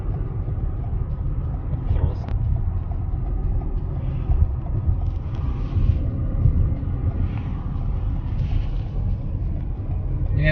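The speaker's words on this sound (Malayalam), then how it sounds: "ശക്തമായ കാറ്റ്." Strong wind roars steadily during a snowstorm in Alberta, a loud, continuous low rumble with gusty swells and no clear speech.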